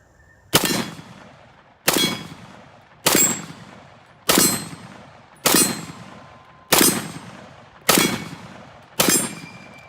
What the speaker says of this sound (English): So now it's time to shoot some more because shooting is fun.